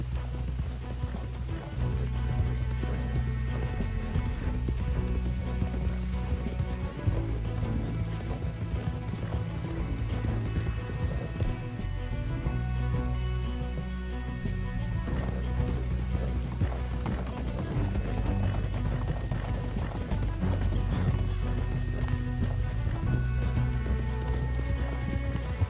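Galloping horses in Red Dead Redemption 2 pound steadily under a loud, droning orchestral score, the rapid hoofbeats continuing throughout with an occasional whinny.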